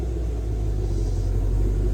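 Deep, loud rumble of a 2022 Shelby GT500 engine fitted with long tube headers, a steady heavy idle droning close by and alone throughout.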